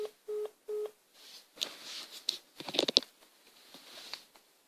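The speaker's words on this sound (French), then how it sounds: "Le téléphone a coupé." After a phone call drops, a telephone gives two short, clear electronic beeps close by. Soft handling noise, clicks and rustling follow.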